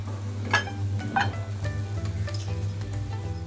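A makki aloo-pyaaz paratha, made with maize flour, potato and onion, sizzles steadily on a gas griddle, with a constant frying hiss and a few light clinks and taps over it.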